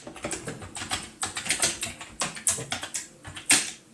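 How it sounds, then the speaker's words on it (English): Fast, uneven clatter of keys on a computer keyboard, close and crisp, with bursts of rapid keystrokes and brief pauses, heard alone without talk. "it's okay to be able to hear my keyboard now, right?"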